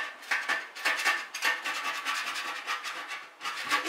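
A metal scraper rasps dried masking tape off a metal object in a steady run of short, gritty strokes, close and fairly loud, with no voices.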